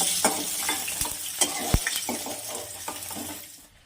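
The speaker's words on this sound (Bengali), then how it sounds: "ওই মাছ ভাজার তেলের মধ্যে ফোড়ন করে নিই গোটা জিরে, তেজপাতা" Whole cumin seeds and a bay leaf crackle in leftover fish-frying oil, a busy sizzle broken by sharp spatters and stirring knocks of a spoon on the pan, fading at the end.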